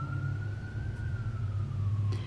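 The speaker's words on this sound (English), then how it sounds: "It's interesting that we are hearing the sirens." Emergency vehicle siren wailing faintly in the distance, one slow rising and falling tone carried over a steady low rumble of traffic.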